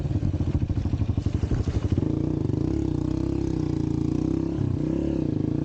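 A dirt bike engine putters with a rhythmic, pulsing idle, then steadies into a continuous droning run as it is ridden, close and fairly loud with no speech.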